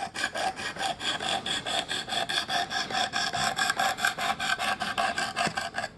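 A knife blade is drawn repeatedly across the abrasive of a Work Sharp Precision Adjust sharpener to raise a burr, making a steady, rhythmic rasping scrape of quick back-and-forth strokes, close and continuous with no talking.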